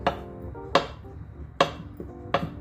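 Knife chopping a banana on a cutting board for a milkshake: four sharp, evenly spaced chops, close and fairly quiet, with a faint clink between strokes.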